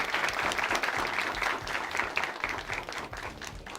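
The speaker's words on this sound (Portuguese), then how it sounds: "Uma salva de palmas para vocês mesmos." Students at a congressional debate event applaud together, a dense, steady burst of many hands clapping that fills the room and thins slightly toward the end.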